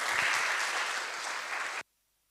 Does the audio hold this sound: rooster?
no